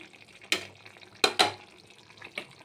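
Shrimp frying in a pan with boiled potatoes for a pointed gourd and prawn curry, with three sharp spatula clatters over a faint, steady background sizzle.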